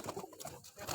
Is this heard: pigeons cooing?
yes